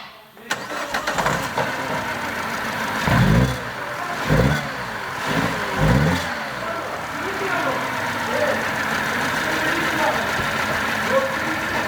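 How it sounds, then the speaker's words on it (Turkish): A Peugeot 308 1.6 VTi petrol engine with a misfiring third ignition coil cranks and catches, then runs unevenly at idle, with a few loud low surges early on. It stays close and steady throughout, with no talk. "Şimdi araca marş yapıyoruz. Sesini duyalım."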